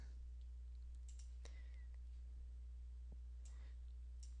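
A few sparse computer mouse clicks, small and close, spread over several seconds while domain names are selected in a web tool, over a steady low electrical hum; no one speaks.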